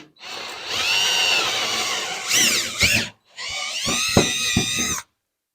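A power drill drilling holes for holiday lights whirs loudly up close in two sustained bursts separated by a brief pause, its pitch rising and falling as it bites.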